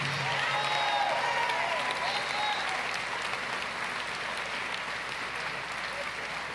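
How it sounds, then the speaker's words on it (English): An audience at a memorial service for Jesse Jackson bursts into sustained applause, dense and steady across the whole stretch, slowly easing off near the end, with faint voices mixed in. "Give Jonathan Jackson another great round of applause"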